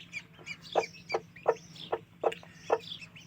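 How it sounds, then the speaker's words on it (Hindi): A hen clucks repeatedly near chicks on a farm in cold weather, giving a series of short, evenly spaced clucks close to the listener, with faint chirps in between and no voices. "मुर्गी भी उधर शोर मचा रही है"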